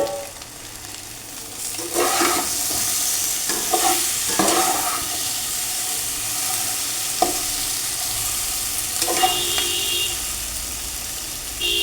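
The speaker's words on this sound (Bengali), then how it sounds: "এখন দিয়ে দেবো একটু ঝোল, দিয়ে দেবো টমেটোর কাঁচা লঙ্কা চেরা," Fish curry of hilsa and prawns with taro stems sizzles steadily in a pan as gravy, tomato and split green chillies go in, with a few bursts of scraping stirring standing out over the constant frying hiss.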